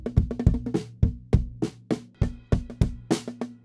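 Recorded drum kit heard through the outside kick drum microphone with an Old School Kick preset: a steady groove of punchy, booming kick thumps with snare and cymbal hits ringing through, close and clear.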